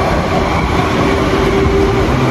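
A commuter train running past at a station platform, with a loud continuous rumble and rail noise close by that holds steady throughout, no voices.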